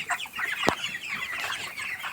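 Chickens cluck steadily on a poultry farm in Trimbak taluka, a dense, continuous flock chatter with one sharp, louder squawk standing out near the middle.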